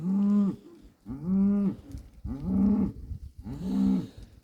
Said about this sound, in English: There's going to be some happy cows